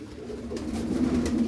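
Pigeons of a Kalia bloodline coo softly and continuously, close by with no talk, a low purring murmur that swells slightly toward the end.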